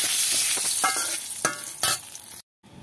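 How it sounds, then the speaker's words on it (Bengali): Cardamom, cinnamon, cloves and mace sizzle in hot ghee as a spoon stirs and scrapes the pan in sharp, irregular strokes. The frying is close and steady, then cuts off abruptly near the end. "এবার এগুলো দিয়ে একটু ভাজা ভাজা করে নেব।"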